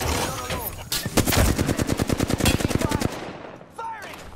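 Flatline rifle in a video game fires long rapid automatic bursts, loud and punchy, a steady string of sharp cracks lasting a few seconds before stopping, with game voice sounds around it.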